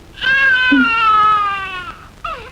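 A recorded imitation of an infant's cry plays from a tape recorder in a 1991 Tamil film scene: one loud, long, sustained wailing cry, then a brief, shorter whimper.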